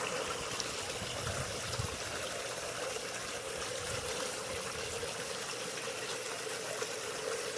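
Steady rushing water flows continuously through a sluice, a broad even gush with no pauses, close and fairly loud throughout.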